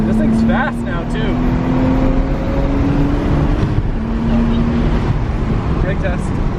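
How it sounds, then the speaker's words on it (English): A boosted Nissan Skyline driven hard through corners, a loud steady engine drone with tire and road roar heard from inside the car, with people talking over it. "Let's see how she corners."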